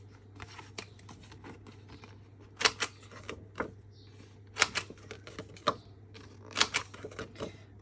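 A corner rounder punch rounds the corners of a paper scrapbooking card, giving several sharp, crisp clicks in irregular pairs over a low steady hum.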